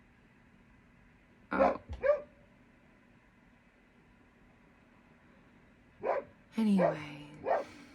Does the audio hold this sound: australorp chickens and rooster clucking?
no